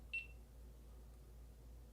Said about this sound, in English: I don't know what the beep is for.